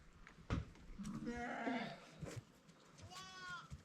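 Sheep bleat at a hillside sheep farm near Kispang in Nepal, several close wavering cries in sequence, with a thump near the start and quiet background voices.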